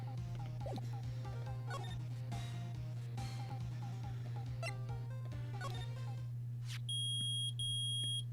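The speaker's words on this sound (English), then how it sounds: "It's beeping! The metal detector's found something." A metal detector in a Phoenix Wright: Ace Attorney video game beeps in quick repeated pulses over a steady low hum, with chirpy game-like tones and a louder pair of beeps near the end.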